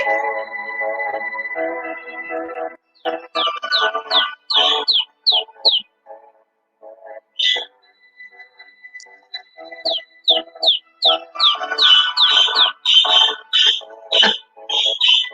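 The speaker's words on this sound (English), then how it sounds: "You hear my birdies?" Pet birds kept indoors chirp in bright repeated tweets, close and lively, in bursts with short pauses, with other household sounds in the first seconds.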